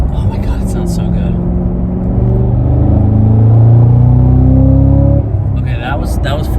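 The engine of a 2022 Cadillac CT5-V Blackwing revs up to 4,000 RPM, a loud rising roar heard from inside the car, with talk before and after it.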